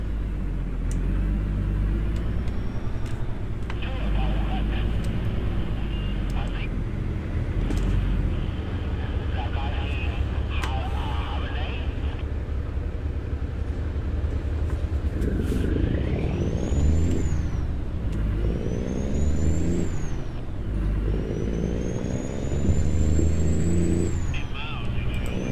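Heavy truck engine in a trucking simulator mod, droning steadily under continuous talk, with rising revs and gear changes audible as the truck struggles shifting from first into second gear.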